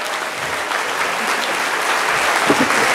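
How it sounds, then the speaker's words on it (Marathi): A student audience at a motivational speech breaks into loud, dense clapping, sustained and steady for the whole stretch, with a faint voice near the end. "आता तुमचं आयुष्य चांगलं व्हावं म्हणून एकदा जोरात टाळ्या वाजवा"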